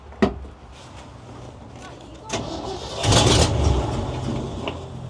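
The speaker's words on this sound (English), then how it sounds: "It'll start on the starter fluid, but it won't stay running." A fire truck engine running on starter fluid cranks, briefly catches with a rising rumble, then sputters, with people talking nearby over the sounds.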